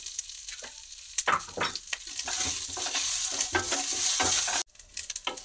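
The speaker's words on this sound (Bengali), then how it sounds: "কারি পাতাগুলো তেলের মধ্যে দিয়ে দেবো।" Curry leaves, turmeric and chili powder fry in oil in a pan for a yogurt curry. Close, busy sizzling is broken by scraping stir strokes, then stops abruptly near the end, with no talk.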